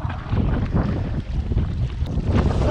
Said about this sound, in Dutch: Vol wind van voren weer.